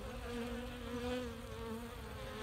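Honey bees buzz steadily around a hive frame after a single frame of bees was added, a continuous low droning hum that holds at an even level throughout, with no voices.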